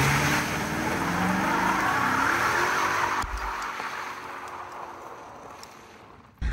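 A car pulls away for an evening drive, its engine and road noise holding steady and loud before tapering off, with a sharp thump near the end.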